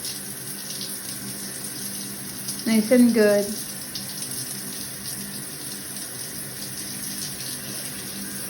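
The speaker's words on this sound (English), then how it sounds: "I love this shower. I love the shower head." A new shower head sprays water in a steady, even hiss that runs through the whole stretch, with a brief voice speaking over it partway through.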